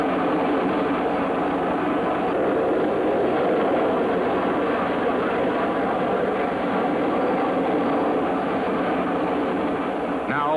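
The Vertijet jet aircraft strains against its restraints before a vertical takeoff, its engine giving off a loud, steady, broadband roar that holds unbroken and close throughout.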